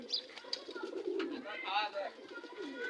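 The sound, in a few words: pigeon cooing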